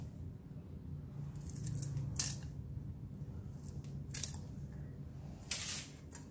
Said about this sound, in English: we're gonna be using the cilantro roots. Just cut it into a smaller pieces